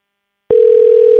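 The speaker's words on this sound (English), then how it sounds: "They hear the phone ringing." A telephone tone sounds on an outgoing call: a steady, loud, unbroken electronic tone starts abruptly after a brief silence and holds to the end, with no talking.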